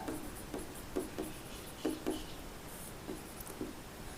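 Chalk or marker writing on a board while working a rectangular-field road area math problem, faint scattered scratching strokes in irregular bursts, quiet and close.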